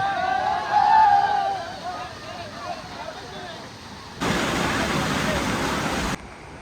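Courtallam waterfall roars in a broad, rushing wash while people bathe beneath it, with crowd voices and chatter heard early on and the water noise growing louder and fuller toward the end.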